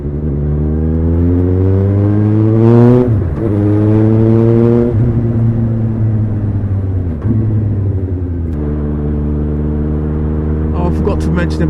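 A Suzuki GSR750 motorcycle with a Yoshimura R11 exhaust rides at night, its loud, deep engine note rising and falling through several gear changes and throttle blips, close and continuous.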